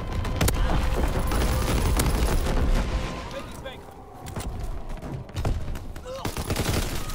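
Gunfire in the World War II shooter Call of Duty: WWII, dense bursts of automatic fire and sharp single shots, loud and close, with a brief lull midway before the shooting resumes.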